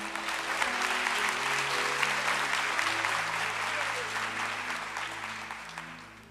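A church congregation applauds in praise during a sermon, a dense, steady wash of clapping from many hands that fills the room and slowly fades toward the end.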